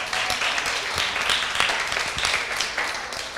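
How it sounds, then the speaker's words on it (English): An audience claps after a youth debate championship held at a church, a dense, lively round of applause with scattered sharper claps, close and steady throughout. "give yourself another round of applause"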